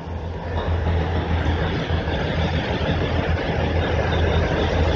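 The engine of the Matheran toy train hums steadily at close range, a dense continuous rumble with a low idling drone that holds constant throughout, no voices over it.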